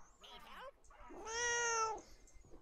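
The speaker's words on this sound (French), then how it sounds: "Ça, c'est mon chat qui vous dit bonjour." A pet cat gives a single clear, drawn-out meow close by, preceded by a brief quieter chirp-like call, with no speech over it.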